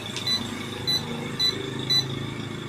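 A DC fan circuit board under repair gives four short electronic beeps at a steady rhythm, about half a second apart, clear over a quiet workbench hum.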